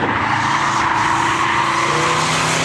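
NASCAR race cars at Seekonk Speedway on opening day make a loud, continuous engine roar with tire squeal as they run a race, steady and near throughout.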